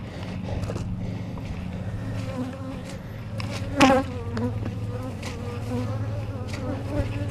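Honey bees buzzing densely around an opened hive during an inspection, a steady close swarm drone with individual bees zipping past the microphone, one loud pass near the middle.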